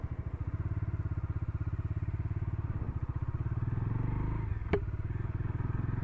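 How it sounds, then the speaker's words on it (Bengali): A Bajaj Dominar motorcycle rides a hilly road in Tripura, its engine giving a steady, loud pulsing drone throughout with a brief sharp click near the end. "তো বাইক স্টার্ট দিয়েছি"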